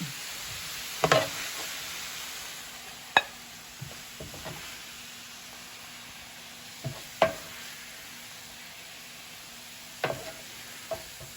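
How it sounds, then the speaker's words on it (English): Cabbage stir fry cooks in a pan with a faint low sizzle, broken by a handful of distinct utensil clinks and scrapes spaced apart. No one speaks. "My cabbage stir fry is ready."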